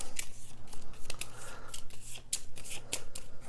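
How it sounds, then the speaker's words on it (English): A deck of playing cards for the card game Grimm being shuffled up close, a brisk run of riffling flutters and soft snaps repeating in quick bursts with no talk over them. "So let me shuffle these so they don't come out the same order."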